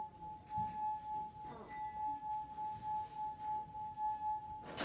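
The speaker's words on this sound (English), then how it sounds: "The water and the friction of my finger together creates the vibration, and then that creates the frequency that we are hearing, the frequency that this glass has." A small glass cup partly filled with water sings under a wet fingertip rubbed around its rim, giving a steady pure ringing tone that holds for several seconds, close and moderately quiet over soft rubbing noise, ending in a brief knock.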